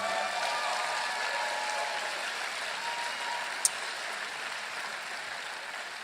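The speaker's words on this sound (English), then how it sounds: "Give them a big round of applause, everybody." An audience at the Unrig the System Summit gives a long, steady round of applause, a dense and even wash of clapping throughout with one sharp click midway.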